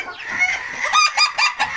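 A hen and her chicks in a chicken coop, with the hen's low clucking mixed with a run of high, shrill peeping calls repeating in quick bursts close by, loud and clear.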